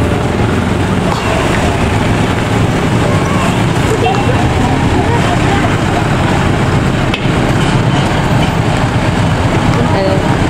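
A loud, continuous rumble of a passenger train departing Kiaracondong station in Indonesia, with steady mechanical roar and clatter close by.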